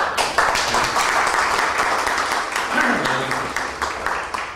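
Audience clapping at a religious gathering as a minister is welcomed to the front, a steady broadband patter that holds for several seconds and then thins out toward the end.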